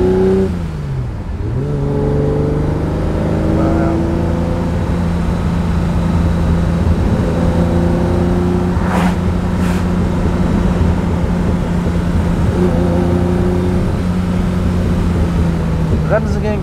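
A 1968 Ferrari 365 GT 2+2 V12 pulls away and revs while driving, its engine note rising and holding strong and close, with someone talking over the drive.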